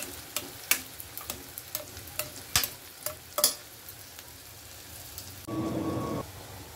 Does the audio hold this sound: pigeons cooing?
no